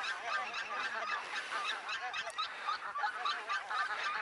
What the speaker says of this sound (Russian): Гуси над нами сзади.